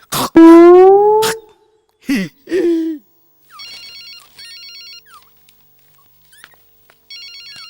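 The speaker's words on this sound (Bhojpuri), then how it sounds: "संपत लाल के फोन।" A phone ringtone chirps in short repeated electronic bursts, three separate rings with pauses between, following a few loud barks or shouts at the start.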